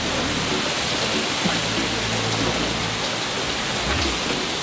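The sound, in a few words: rain falling on sailboat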